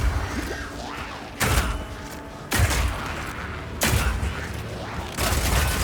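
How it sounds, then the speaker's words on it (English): Sniper rifle fired in Path of Exile 2, with four heavy, evenly spaced shots about every 1.2 seconds, each a sharp loud blast trailing into a mechanical rattle. "This one works just like a classic sniper rifle"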